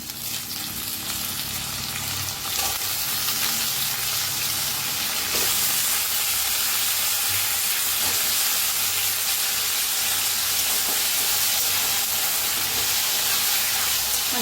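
Potatoes fry in oil together with onions for a spiced cabbage dish, a loud continuous sizzle that grows fuller after a few seconds, with a few faint stirring knocks underneath.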